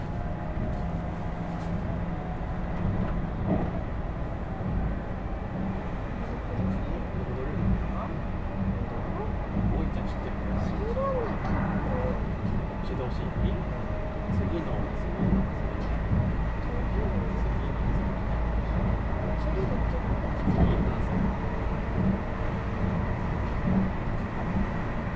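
A Meitetsu 1030 series limited express electric train runs between Toyohashi and Gifu, heard from inside the car as a steady rumble of wheels and motor with occasional rail clatter and soft voices at times.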